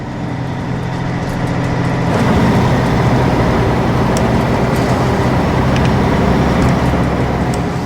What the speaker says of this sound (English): The car will slowly pass the truck, which is left-hand drive.